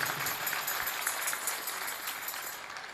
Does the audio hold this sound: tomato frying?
no